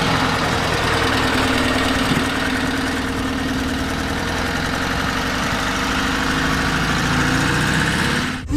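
A 1968 Porsche 912 engine idles steadily up close, a loud continuous mechanical drone with a low rhythmic thrum that holds evenly throughout before cutting off at the end.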